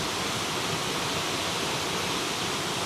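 Rushing water at Sundi waterfall near Chandgad, a dense, steady broadband roar filling the whole clip without pause, close and loud, with no voices over it.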